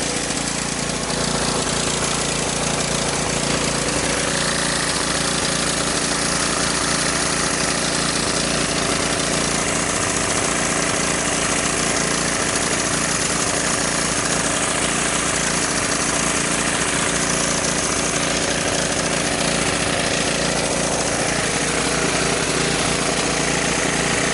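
A portable generator engine with the choke off and the air cleaner removed runs loud and steady close by, a continuous rough mid-pitched drone with no break throughout.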